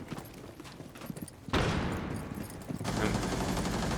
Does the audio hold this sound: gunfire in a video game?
yes